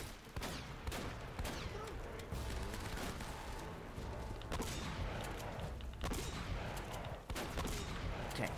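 Gunfire from the video game Uncharted: Drake's Fortune, a dense fusillade of shots and thuds running continuously at steady loudness, with occasional sharper bursts standing out over a busy background.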